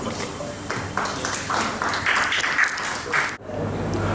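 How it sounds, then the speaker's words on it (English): An audience claps to welcome a doctor onstage at a morning medical education session, a dense burst of applause swelling for about three seconds before stopping abruptly, followed by quiet room tone. "let us all warmly welcome Dr. Vatsal Gupta with a big round of applause"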